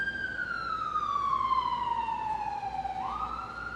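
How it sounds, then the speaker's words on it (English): An ambulance siren passes on a street, a loud wailing tone that slides steadily downward and then jumps back up, over a low traffic rumble. "I'm going to let the ambulance pass."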